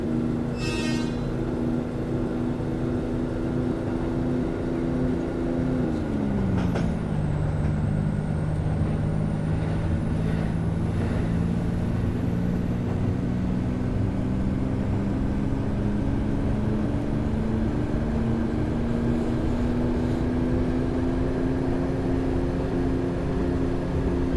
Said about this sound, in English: It is cool how you can hear it shifting through all the gears.